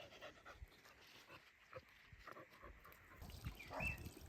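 Dogs out on a walk pant in quick, rhythmic huffs near the ear, soft but steady, with footsteps and light outdoor rustle underneath.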